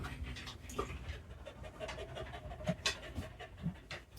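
A dog named Jack pants quietly close by, with soft, rapid breaths over a low, steady background hum.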